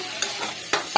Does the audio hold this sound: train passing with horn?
no